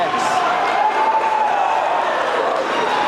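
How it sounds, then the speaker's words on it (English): Crowd roaring at a high school wrestling dual meet after a fall, a loud, sustained wash of cheering with voices mixed in, fading slightly toward the end. "I'm sure you guys could hear the crowd just exploding."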